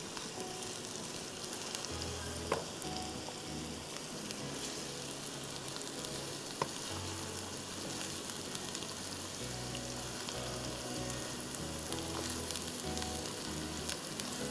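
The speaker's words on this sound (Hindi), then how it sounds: "अच्छी तरह से इसको हमें फ्राई करना है" Minced meat sizzles in a pan with a steady, dense frying hiss. It is fairly faint but continuous for the whole stretch, with a few light taps of a spoon and no talking.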